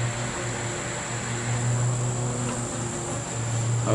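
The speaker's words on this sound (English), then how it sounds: "There's a lot of bees in here." Honeybees from an opened backyard hive during a summer inspection, giving a dense, steady droning buzz that fills the space up close for the whole stretch, with no talking.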